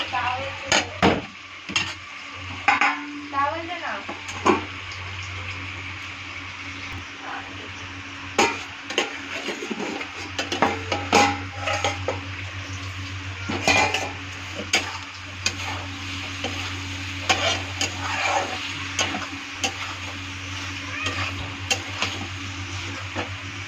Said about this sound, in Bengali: পেঁপেটা ছেড়ে দিয়ে এখন আবার ভালো করে নাড়াচাড়া করব।